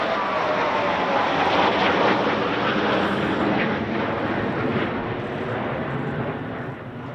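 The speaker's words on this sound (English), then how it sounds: "listen to that sound of the Voyager's engines" A Voyager aircraft flies past during the Trooping the Colour 2025 flypast, its engines a loud, steady jet roar that fades slowly as it passes, with no talking.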